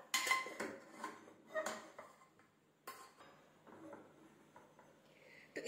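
Eggplant bharta being stirred and roasted in a pan, with a spoon scraping and clinking against the metal in uneven bursts, fairly faint and close, without talk.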